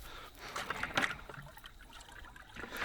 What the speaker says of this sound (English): I might put a bit more water in there.